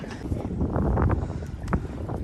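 Strong wind buffets the microphone on an anchored boat in a steady, rumbling roar, with faint water sloshing underneath.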